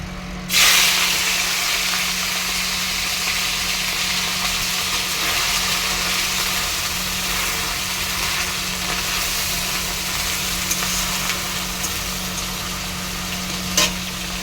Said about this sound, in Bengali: তেল প্রায় গরম হয়ে গেছে, এখন মাছগুলো ছেড়ে দিই